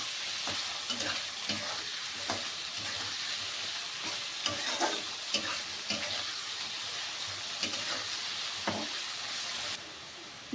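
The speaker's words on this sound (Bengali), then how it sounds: "বিন আর গাজরটা ভাজা ভাজা হয়ে এসছে" Beans and carrots fry with salt in a pan for fried rice, a steady close sizzle broken by repeated scraping stirs that scatter sharp clicks throughout, with no voices.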